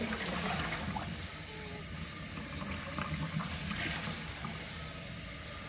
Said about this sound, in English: just empty our pan and get some fresh cold water